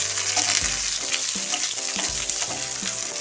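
Roughly cut large onion frying in hot oil for chicken butter masala, a loud continuous sizzle with periodic clunks and scrapes of a stirring spoon against the pan, close up and without speech.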